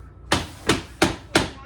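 Five evenly spaced hammer blows during a farmhouse floor and brick hearth build, sharp loud strikes close by in a steady rhythm.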